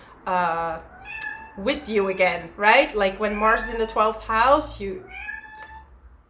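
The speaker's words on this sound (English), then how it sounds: "That's my cat. She's talking a bit too loud" A pet cat meows loudly several times close by while someone talks over it.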